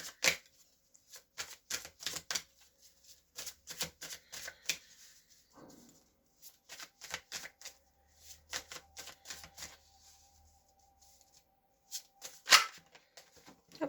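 Tarot cards are shuffled by hand, a long run of quick papery riffles and slaps in uneven bursts, some sharper and louder, with short pauses between, close and fairly quiet with no talking.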